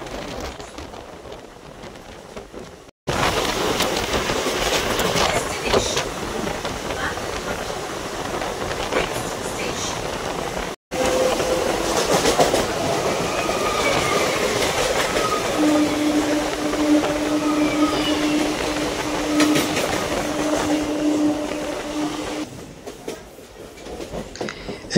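A passenger train on the Howrah–Bandel line runs between Chandannagar and Chinsurah stations, giving a steady, close rumble of wheels on rails with faint clicking and brief tonal squeals, continuous for most of the stretch.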